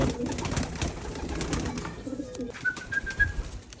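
Pigeons coo softly and close by in low, throaty rolling calls over steady outdoor background noise, with a few faint high chirps near the end.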